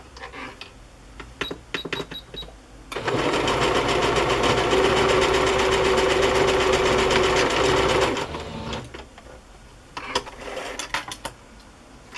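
Close, steady whir of a sewing machine tacking lace down, running continuously for about five seconds between quieter handling clicks and rustles.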